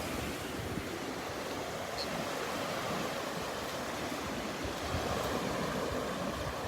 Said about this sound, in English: Listen to that, the song of the sea, the song of the sea.